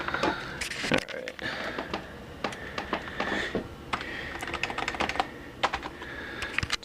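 Rapid, irregular clacking of keys on a PS2 computer keyboard, close and crisp, with bursts and short pauses between keystrokes.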